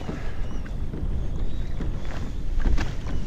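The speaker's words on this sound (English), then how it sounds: "Now the wind's picking up" Wind gusts over a lake around a Hobie Outback kayak, a continuous low buffeting roar with microphone rumble and light water wash, close and steady, no talk.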